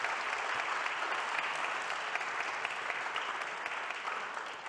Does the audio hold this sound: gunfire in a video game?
no